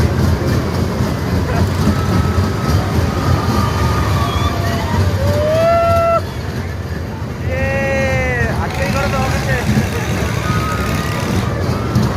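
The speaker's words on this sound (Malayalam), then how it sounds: "അങ്ങനെ ഡ്രാഗൺ ട്രെയിനിൽ ഞങ്ങൾ രണ്ട് മൂന്നാല് റൗണ്ടൊക്കെ കറങ്ങി" A dragon train amusement ride at a festival fair rumbles along with a steady mechanical roar, while high whistling tones and siren-like sweeps rise over it and voices chatter nearby.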